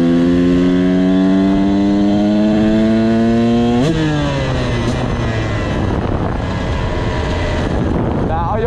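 A motorcycle being ridden, its engine droning loudly with rising pitch through acceleration, then a gear change and a falling tone, heavy wind rush over the microphone throughout and no clear talking.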